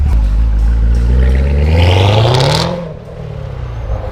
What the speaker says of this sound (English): Give it a little gas on your way up. I want to hear it.